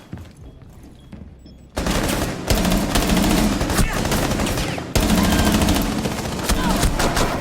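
Sustained automatic gunfire in a Call of Duty match, starting quiet then bursting loud and dense around the two-second mark, with a brief dip before rapid shots resume, mixed with faint game effects.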